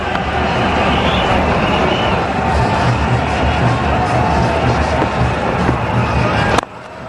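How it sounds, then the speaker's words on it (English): A very large crowd at the India vs Sri Lanka Asia Cup 2010 cricket final roars and cheers continuously as runs are taken, a broad sustained din with a voice over it and a sharp thump near the end. "Every run now being cheered by a very large crowd here."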